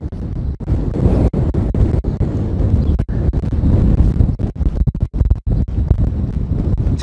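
Heavy wind buffeting a microphone in Christmas Valley, Oregon, loud low rumbling gusts with sharp dropouts, no voices.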